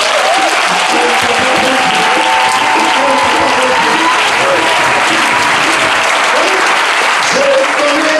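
A church congregation applauding loudly and continuously, a dense roar of clapping with some crowd voices mixed in.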